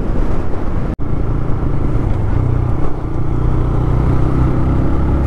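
TVS Raider BS6 motorcycle engine running steadily nearby, a continuous low rumble with a brief cutout near the start, wind buffeting the microphone.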